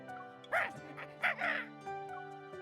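Crow-like birds caw in a video game, with a few short harsh calls near 0.5 and 1.3 seconds, a longer one around 1.5 seconds and a softer one near 1.9 seconds over a steady musical background.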